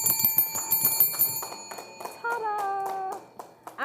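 Small bells ring in quick bursts at a live studio auction just after an item is sold, bright sustained tones over clapping and chatter, then a shorter chime cluster.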